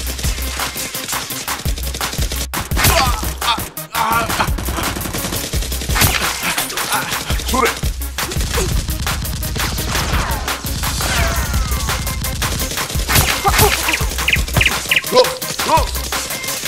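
Toy Nerf guns fire in a mock gun battle: rapid bursts of popping shots and clattering mechanisms, loud and close, continuing almost without pause with scattered knocks and bangs.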